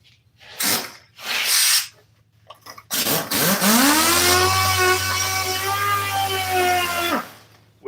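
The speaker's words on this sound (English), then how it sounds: "With these grinders right here," A handheld grinder smoothing a rough surface, starting with a couple of short bursts, then a long steady whining drone that holds for several seconds before cutting off, loud and close.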